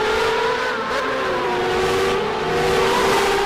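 Race cars lapping Kyalami circuit, a loud, sustained engine drone with shifting revving tones that rise and fall as the cars pass.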